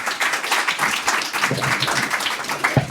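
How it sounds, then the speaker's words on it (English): Applause from an audience, steady broadband clapping over about three seconds, with a faint voice or two underneath. "So round of applause for Denise, please"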